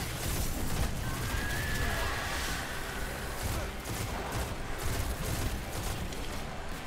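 Pulse rifle fire in the video game Destiny 2, a dense, continuous stream of rapid shots and impacts layered over busy in-game combat noise.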